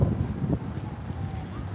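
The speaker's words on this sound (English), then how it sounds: "And it's super windy." Strong wind buffets the microphone with a low, rumbling roar that gusts unevenly throughout.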